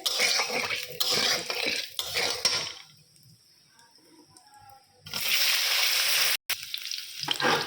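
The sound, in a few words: spices frying and being stirred in a pan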